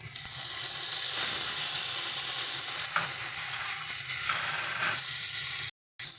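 Onion and garlic paste sizzles and hisses steadily in hot mustard oil left from frying pomfret, with occasional stirring scrapes, loud and close, cutting out briefly near the end.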